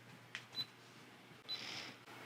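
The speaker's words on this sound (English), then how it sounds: "Here, I'm just going to press the shutter" A 360 camera's shutter button pressed, giving a couple of faint, quick clicks and a soft electronic chirp in a quiet room.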